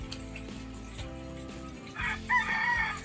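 A rooster crows loudly nearby toward the end, over a background of chickens clucking and low engine-like hum, in the Philippines.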